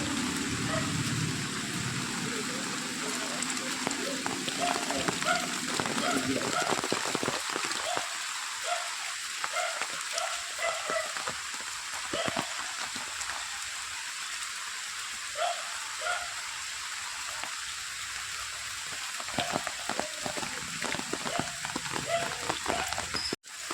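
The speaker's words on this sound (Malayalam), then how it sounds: "മഴ ശക്തിയായിട്ട് തന്നെ പെയ്യുകയാണ്." Heavy rain pours down in Puthuppally, Kerala, during a storm after a whirlwind brought down trees, a dense, steady roar that softens slightly midway, with scattered louder drops spattering nearby.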